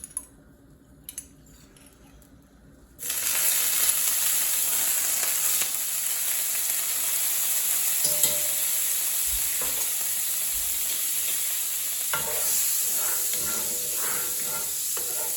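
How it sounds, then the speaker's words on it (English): Butter browning in a hot pan with capers added, giving a steady loud sizzle and hiss that jumps up abruptly after a quiet start and runs on, with a few faint clinks. "you can see the butter starting to brown. Throw in some capers."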